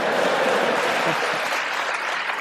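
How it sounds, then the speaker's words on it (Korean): Sustained applause fills a US Congress joint session hall during a South Korean president's address, a dense roar of clapping from a large chamber. "박수가 끝나지 않아서 이럴 땐 좀 빨리 끝났으면 좋겠는데요."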